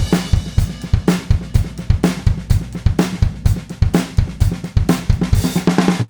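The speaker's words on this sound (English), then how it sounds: "I recorded a few multi-track drum loops to play around with mixed drums." Raw multi-track drum loop recorded with microphones into a clean preamp and no processing: steady kick and snare hits with cymbal wash in a driving, repeating groove, close and punchy.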